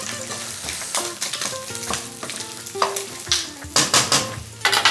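Bacon frying in a pan until crispy, a steady close sizzle broken by repeated clinks and scrapes of stirring against the pan.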